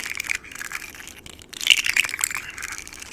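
Short, wet, squelchy crackling sounds of an ASMR slug trigger, close and soft, with brief pauses between bursts of sticky crunching.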